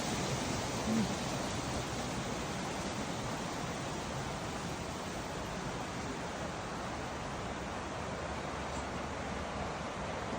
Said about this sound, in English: Yeah, John, the sound of water, it is so soothing